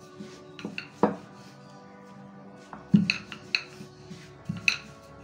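Methi paratha dough being worked with a rolling pin on a board, heard as scattered close clacks and knocks of wood with light scraping and soft thuds, no voices.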